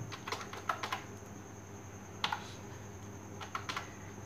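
Light tapping on a computer keyboard while writing Arduino program code, a few scattered soft keystrokes in small clusters against a quiet steady background hum, no voice.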